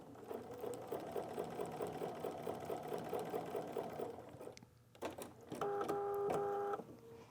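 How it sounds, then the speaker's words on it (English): Sewing machine stitching bias strips together for quilt piping, a steady rapid mechanical clatter for several seconds, a brief pause, then a louder burst of whirring stitches. "So I'm going to stitch my bias strips together."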